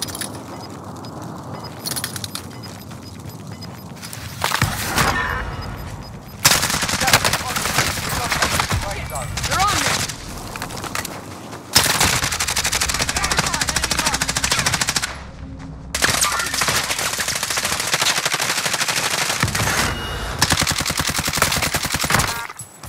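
Automatic gunfire in the Call of Duty: Modern Warfare video game, with dense, loud bursts of rapid shots in long sustained stretches broken by brief pauses, close and dominating, with faint game radio chatter at times.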